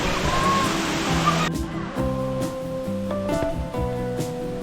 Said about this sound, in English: This is a beautiful waterfall, definitely worth coming to.